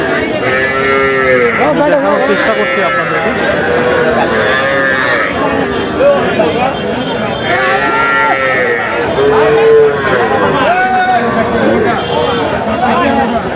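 Calves and cattle at the Kaharol livestock market in Dinajpur moo repeatedly, with several drawn-out calls rising and falling close by. Someone talks over the animals and a steady crowd hubbub runs underneath.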